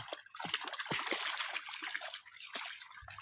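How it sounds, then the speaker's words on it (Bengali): Rain falls and water trickles and splashes close by in a village goat yard after a week of continuous rain, a soft, steady wet patter. "টানা 7 দিন ধরে বৃষ্টি পড়ছে।"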